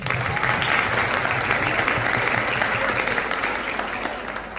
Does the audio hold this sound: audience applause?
yes